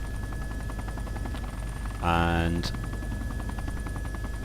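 A helicopter in the video game DayZ drones with steady rotor chopping, a louder harmonic burst swelling briefly midway, while someone talks over it.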